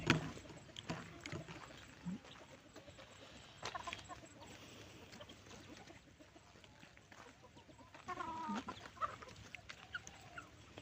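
Breeding hens cluck faintly in short bursts, some farther off, over a quiet outdoor background with occasional knocks.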